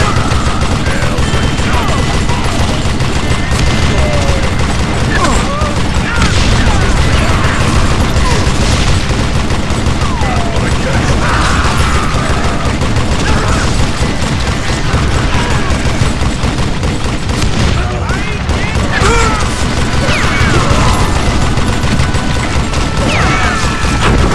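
Dense, continuous gunfire in the Western shooter game Call of Juarez Gunslinger during a train robbery mission, with rapid overlapping shots, booms and crashes, loud and unbroken throughout.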